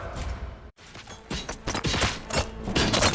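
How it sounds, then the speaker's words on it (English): Rapid bursts of gunfire in the RoboCop: Rogue City video game, loud and dense, with a brief gap of silence before a run of sharp overlapping shots and impacts. "Gunshots? What's going on?"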